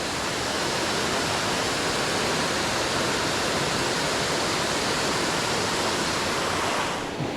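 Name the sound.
waterfall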